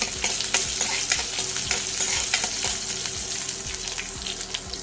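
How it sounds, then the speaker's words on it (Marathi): Mustard seeds, curry leaves and chilli pieces fry in hot oil in a pan for cabbage bhaji, giving a steady close sizzle with crackling pops and light stirring scrapes throughout. "आणि छान सगळं साहित्य तळू देऊ"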